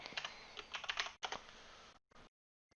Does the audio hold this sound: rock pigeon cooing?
no